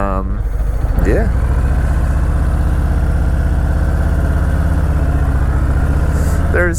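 Harley-Davidson Fat Boy 114 anniversary edition motorcycle with a steady, loud, deep engine drone running close by, under someone speaking at the start and again at the end.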